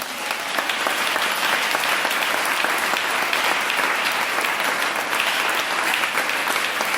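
Church congregation applauding steadily and loudly throughout, a dense continuous clapping with no talk over it.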